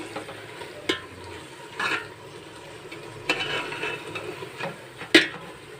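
Half a kilo of tomatoes frying in a pan for Muslim-style pulao, a steady close sizzle broken by several sharp scrapes and stirs of a spoon against the pan.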